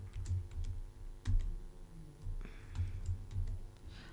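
Typing on a computer keyboard to enter the vi command in a Linux terminal: a quick run of close, crisp key clicks with short gaps, one sharper keystroke standing out, no voices.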